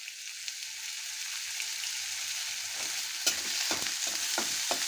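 Curry leaves hitting hot oil for a spicy tomato chutney: a steady, close sizzle with crackling spits, joined by a few scraping stirs of a spoon in the pan near the end.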